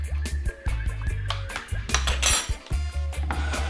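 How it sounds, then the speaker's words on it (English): Spoon clinking and scraping against a bowl while flakes are gently stirred into a vegan fermented cheese mixture, with repeated close taps and scrapes over several seconds. "And we're going to be gently just stirring that in."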